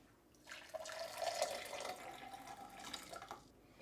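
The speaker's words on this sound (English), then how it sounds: "I'm going to put in the same amount of just boiled water from the kettle" Just-boiled water poured from a kettle into a glass, a steady splashing trickle that starts after a brief pause and runs for about three seconds, close and fairly quiet, with no talking.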